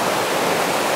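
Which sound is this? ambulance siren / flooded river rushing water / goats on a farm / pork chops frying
flooded river rushing water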